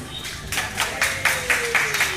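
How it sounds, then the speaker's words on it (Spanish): Applause at an eleventh-anniversary celebration at an elderly care foundation, a small group clapping in roughly regular bursts, close and moderately loud, with a faint voice trailing underneath. "Un aplauso para ustedes mismas."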